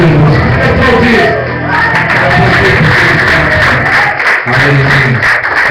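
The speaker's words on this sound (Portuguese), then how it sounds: "Aplaudir." A church congregation applauds and cheers during a worship service, loud and close, with clapping mixed into shouts and whoops and voices calling out over a steady roar of the crowd.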